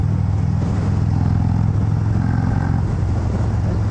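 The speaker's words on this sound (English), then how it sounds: "These aftermarket Reinhardt slip-ons sound sensational" A 2019 Road King Special motorcycle with Reinhardt slip-on exhausts rumbles with a deep, steady engine note, held loud and close throughout at an even throttle.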